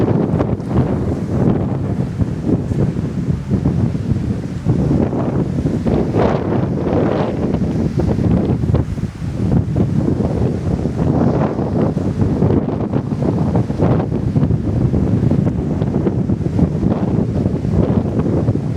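Steady rushing water from a waterfall near a village in Papua New Guinea roars continuously at close range, a broad unbroken wash of noise with gusty rumble.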